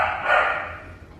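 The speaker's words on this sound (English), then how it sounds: "so if you hear a bunch of barking, that's just them." Dogs barking in another room, one short muffled bark that quickly tails off, heard at a moderate distance with no talk over it.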